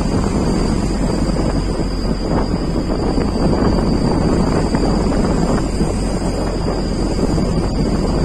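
Constant roaring wind buffets the microphone while waves wash and slap around a fishing boat at sea, a loud, unbroken outdoor rush with a faint high whine on top and no talk.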